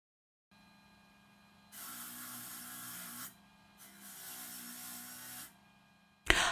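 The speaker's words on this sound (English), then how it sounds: "3M 80 grit sanding disc to knock off any burrs or rough spots from the drilling and any fire scale from annealing" A rotary tool fitted with an 80 grit sanding disc deburrs a piece of brass: a faint motor whine, then two rasping grinding bursts of about one and a half seconds each, ending in a sudden sharp clatter.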